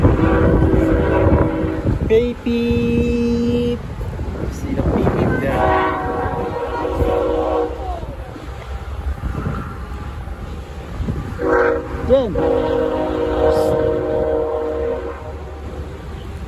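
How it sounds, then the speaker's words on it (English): A train passes near a waterfall campsite, its horn sounding in several long blasts over the rumble of rolling wagons, while people talk and call out nearby. "But you have train over there, guys."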